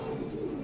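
Racing pigeons in a loft coo softly in a low, steady murmur, the short burst of soft calls heard close without any talk.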